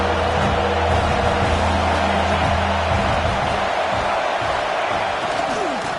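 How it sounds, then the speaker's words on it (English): A big college football stadium crowd in a video game roars steadily on a third down at an Ohio State Buckeyes game, a dense, continuous wash of cheering that fills the whole moment without letting up. "the Buckeye crowd alive on third down"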